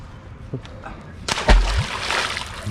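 A released carp splashing back into a fishing pond, one sharp close splash followed by brief sloshing water, with someone talking around it.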